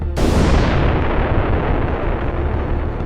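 Explosion of a black hole striking Earth: a sudden loud blast with a sharp onset, followed by a heavy, sustained rumbling roar that stays dense and powerful to the end, with no voices.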